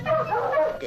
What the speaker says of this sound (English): But the giant turned his huge dogs loose to join the chase.